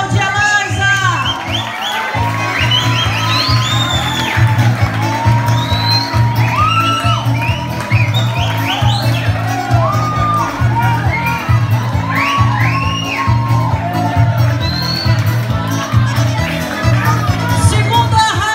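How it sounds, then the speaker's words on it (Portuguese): A large crowd at a corn queens pageant parade in Brazil cheering, whooping and shouting loudly and continuously, with children's shrill cries and some applause over a steady amplified music bed, sustained throughout. "Vamos aplaudir a Laysa."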